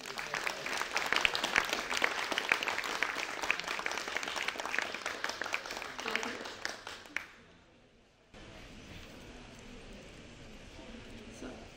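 Studio audience applause, a dense burst of clapping for about seven seconds that fades out, followed by quiet room tone.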